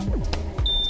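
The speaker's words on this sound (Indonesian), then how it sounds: "Setelah dicatat kemudian ditanda dengan bunyi bip" A single electronic beep from a bomb calorimeter marks the start of a calorific value measurement; a steady tone appears partway through the clip over low background hum, clear and fairly close.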